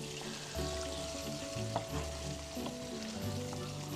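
Steady sizzling and crackling of meatballs frying in a pan, with faint scraping and clinks of a utensil stirring throughout.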